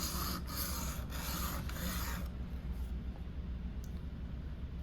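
A knife blade scrapes back and forth across a sharpening stone at roughly a 16 degree angle, several close, rhythmic rasping strokes followed by a quieter, softer grinding stretch.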